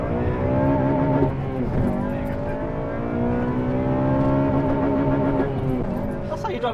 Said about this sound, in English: That's how you drive a VTEC.